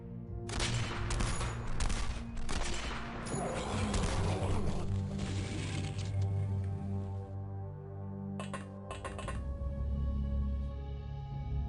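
Gunfire in the X-Com Files video game: dense overlapping bursts of shots and impacts for several seconds, a lull, then a few more sharp cracks near the end, loud and close with no voices.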